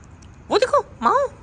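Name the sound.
person imitating a cat meow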